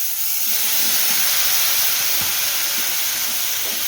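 Mushrooms fry in a pan for mushroom chukka, a loud continuous sizzle and hiss with faint scraping from stirring underneath.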